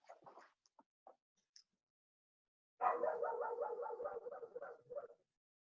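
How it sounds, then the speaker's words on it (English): A small dog barks a few scattered times, then lets out a rapid, continuous run of yappy barks, fairly close and moderately loud. "Yeah, that was my dog."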